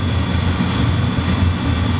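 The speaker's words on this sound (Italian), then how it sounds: "Dietro al filtro di sicurezza c'è un dry cooler per il raffreddamento dell'acqua di lavaggio del gas" A dry cooler at a biomass plant, cooling the gas-scrubbing wash water, gives a steady, loud broadband roar with a deep low-end rumble and a constant fan-like hiss, unchanging throughout and with no voices.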